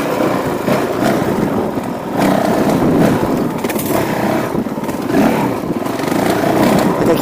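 A Honda CRF450L dual-sport motorcycle engine runs steadily while riding on a warm day, a loud, close, continuous single-cylinder drone with slight rises and dips in throttle and no talk.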